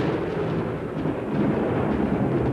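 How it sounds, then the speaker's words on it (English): Thunder from a midnight electrical storm over Adelaide, a deep sustained rumble rolling on without a break, loud and without voices. "an electrical storm lit up the skies above Adelaide"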